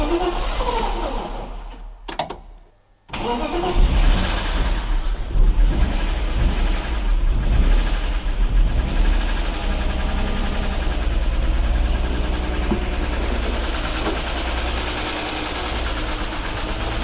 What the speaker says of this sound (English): Can you try to give some gas maybe?